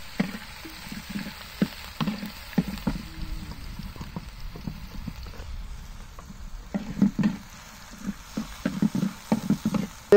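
Curry being fried in oil in a village kitchen gives a soft, uneven sizzle, broken by repeated scrapes and clinks of stirring that grow busier toward the end, with no voices.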